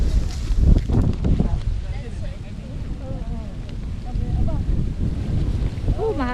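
Strong wind roars and buffets the microphone continuously, with voices talking faintly beneath the gusts outdoors.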